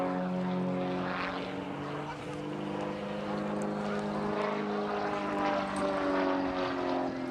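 An Extra 300S single-seat aerobatic propeller plane drones overhead at an air show, its engine note wavering and shifting steadily as it tumbles, rolls and flicks; moderately distant and steady throughout.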